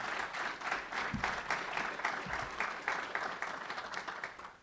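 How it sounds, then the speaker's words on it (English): Steady audience applause at a university basketball head coach press conference, a continuous wash of many hands clapping at moderate distance that fades out at the end. "Let's give him a round of applause."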